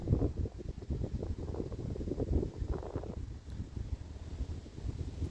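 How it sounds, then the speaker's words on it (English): Strong wind gusts buffet the microphone outdoors beside a river in the New Forest near Ashurst, a steady low rumbling roar with rustling that stays loud and continuous throughout, with no voices. "Sorry if it's really windy"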